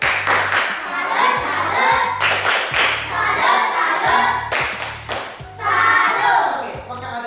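A primary-school class claps hands together in a steady, loud rhythmic pattern of repeated bursts, with children's voices mixed in the background.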